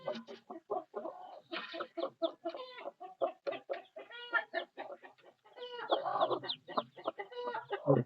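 A hen with her newly hatched chicks makes repeated clucking calls in short bursts, close by and fairly loud, with a few denser flurries of sound.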